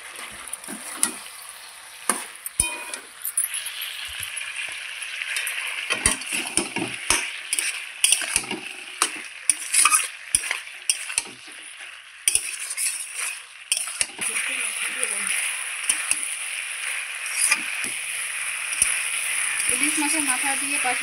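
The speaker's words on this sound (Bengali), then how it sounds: "মাথাটা দিয়ে আবারও খুব সুন্দর করে নেড়ে চেড়ে নিচ্ছি।" Fried hilsa fish head is stirred into mixed vegetables in a pan, with intermittent scraping, clinks and sizzling bursts over a steady frying hiss, then a calmer simmer near the end.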